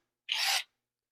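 A short, harsh grinding burst from a cordless impact driver drilling into concrete, close and fairly loud, lasting under half a second before silence.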